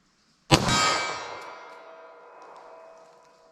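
A single sharp metallic clang from a 9mm pistol round striking a steel target at a shooting range, close and bright, ringing out and fading slowly over about three seconds.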